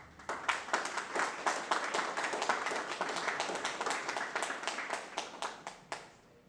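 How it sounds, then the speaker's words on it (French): Steady applause from a crowd at a graduation ceremony fills the room, a dense patter of many hands clapping that thins out toward the end. "Il mérite bien sûr d'être applaudi, bien sûr."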